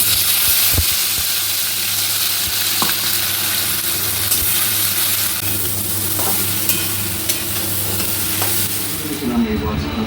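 Spice masala hits hot oil already tempered with bay leaf, dried red chillies and whole garam masala, producing a loud, continuous sizzle and frying hiss with occasional stirring scrapes.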